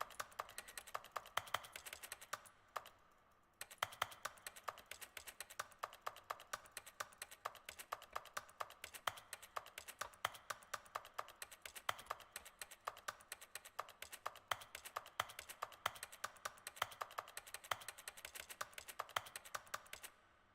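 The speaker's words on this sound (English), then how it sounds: "I love the keyboard sounds for clicking aimlessly." Rapid, continuous clacking of a computer keyboard in The Stanley Parable, with aimless fast keystrokes in a steady stream and one brief pause, quiet and close, with no voices.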